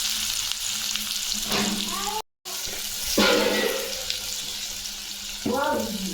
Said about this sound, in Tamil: எண்ணெய் நல்லா காயுது கடுகு போட்டுக்கலாம் கடுகு பொரியுது